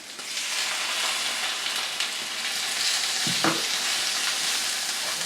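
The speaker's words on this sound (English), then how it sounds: "So what we're going to do now is we're going to go in with our sherry." Sherry hits a hot pan while making gravy, setting off a loud, continuous sizzle and hiss with a brief clatter of utensil or pan partway through.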